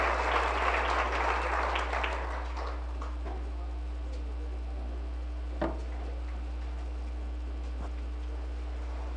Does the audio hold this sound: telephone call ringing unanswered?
no